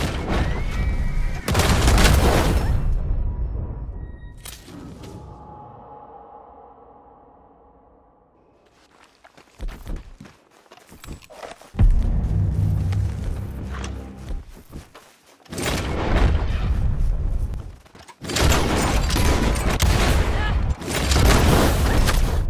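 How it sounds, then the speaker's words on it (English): Bursts of gunfire with incendiary rounds in Red Dead Online, loud clustered shots and booms separated by quieter stretches, with a voice speaking at times between the volleys. "She's killing that NPC with incendiaries."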